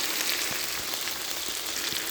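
Potatoes fry in a pan with turmeric and salt, giving a steady, even sizzle with faint scrapes of stirring throughout.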